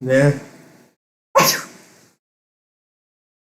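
A single sharp sneeze, loud and close, followed by a brief spoken word.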